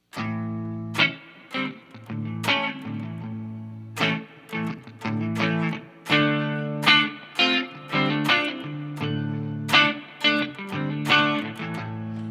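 Clean electric guitar run through an Origin Effects DCX boost pedal, strummed chords and picked notes in a steady, moderately loud rhythm, played alone with no talking.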